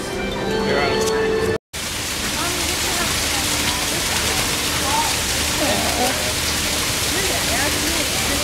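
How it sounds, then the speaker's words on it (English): Steady rain pours down outdoors at Disney World's Animal Kingdom, a loud, continuous hiss that fills the whole stretch after a brief break near the start. "So? It's raining. Again."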